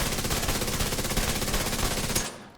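Automatic rifle fire in the Division 2 shooter game rattles in one rapid, loud continuous burst that cuts off abruptly near the end.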